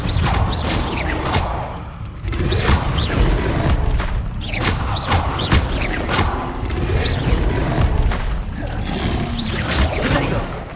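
Incendio fire spell cast in the video game Hogwarts Legacy, loud bursts of whooshing flame and booming impacts repeating every second or two over about ten seconds, amid combat noise.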